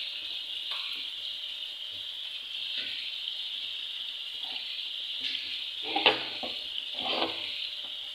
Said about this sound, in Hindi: हम इसमें अपना पास्ता ऐड करते हैं और इसको मज़ेदार से रेडी कर लेते हैं वाइट सॉस पास्ता को